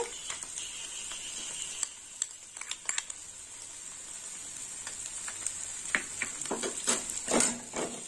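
Poppy seeds drop into hot spiced oil in a pan for okra posto and fry with a steady high sizzle, broken by scattered ticks and clinks of a spoon and ending in a louder stirring burst.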